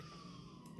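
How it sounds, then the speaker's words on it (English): A fire engine siren wails as a faint, steady tone in the distance, brief and low in level with no voices over it. "That's a fire engine."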